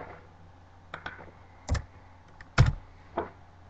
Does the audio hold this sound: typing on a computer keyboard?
yes